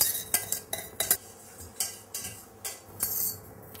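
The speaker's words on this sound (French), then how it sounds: "Dans un saladier, on va maintenant mélanger le fromage blanc auquel je vais ajouter mon lait" A spoon clinks and scrapes rhythmically against a bowl while cottage cheese is stirred with milk and gelatin, a series of close, fairly quiet strokes with no talking.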